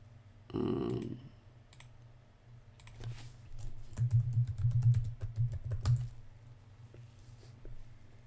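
Fingers tap quickly on a computer keyboard to log in, producing a close, soft run of irregular key clicks over a low background hum, with one brief louder knock near the start.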